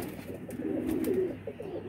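Pigeons coo softly in a low, repeated throaty rumble, a steady close murmur of the Mian-wala fancy breed, black-winged birds, with no voices over it.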